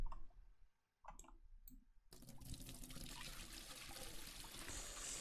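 Tap water runs into a bucket in the Aquatic Store Simulator fish-shop game, starting as a steady, fairly loud broadband pour after a few quiet clicks and continuing to the end without talk.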